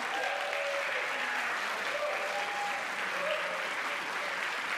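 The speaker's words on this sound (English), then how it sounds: "Congregation, give them a big round of applause" A church congregation gives young adults a big, steady round of applause, a dense continuous wash of clapping at even loudness from start to finish, with faint voices mixed in.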